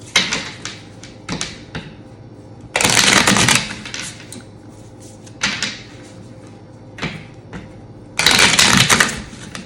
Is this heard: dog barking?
no